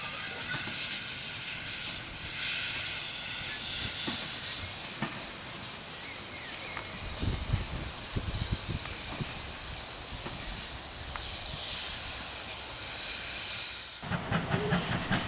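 Steam locomotive number 5526 pulls its train forward into the passing loop at Bishop's Bridge on the South Devon Railway, giving a steady hiss of steam with rolling rail noise and scattered clanks and wheel clicks over the whole stretch.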